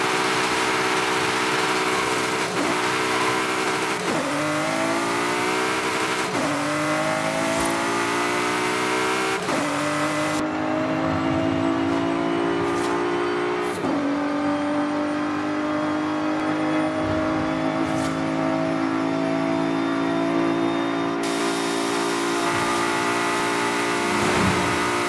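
A Ford GT sports car with over 900 horsepower revs hard and accelerates through its gears. Repeated rising engine sweeps are each cut by a quick shift, and the engine note stays loud and close throughout with no talking.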